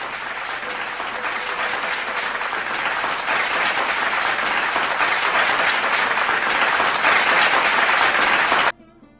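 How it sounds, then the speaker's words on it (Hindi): A large audience applauds loudly and steadily to welcome a veteran theatre artist at an honour ceremony, with the dense clapping holding for about nine seconds before cutting off abruptly. "आप लोग जोरदार तालियों से राजा रस्तोगी जी का स्वागत करें"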